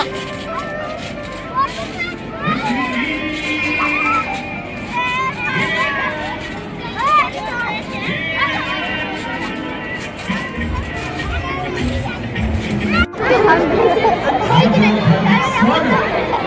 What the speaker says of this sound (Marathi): बघा जेवणाला गर्दी किती